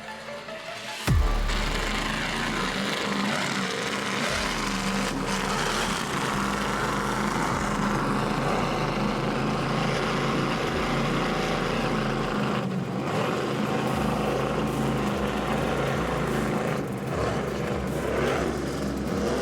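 A 42-foot powerboat's engines roar loud and unbroken during a poker run off Key West, surging and dipping as the hull slams through choppy water, with wind buffeting throughout.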